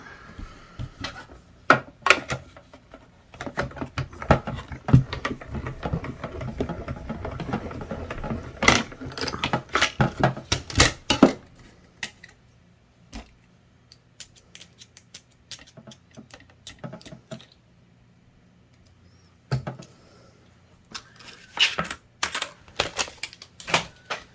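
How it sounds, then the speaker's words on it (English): A paper boo shape is die cut for a Halloween matchbook candy holder, with crisp mechanical clicks, ratcheting cranks and rustling paper in uneven bursts, close by and with no talking. "we're gonna die cut the boo"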